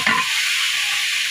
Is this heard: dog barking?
no